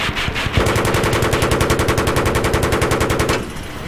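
A helicopter's mounted machine gun in Battlefield 3 fires a single sustained burst of rapid, evenly spaced rounds, loud and close, lasting about three seconds.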